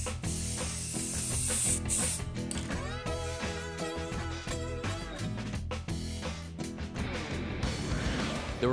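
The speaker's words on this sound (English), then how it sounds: "The last step to this little do-it-yourself project is going to be applying the top coat, or what oftentimes is referred to as a clear coat." Clear coat sprayed onto parts for a 1969 Road Runner, a steady close hiss with a few short pauses and some mechanical clicks running under it.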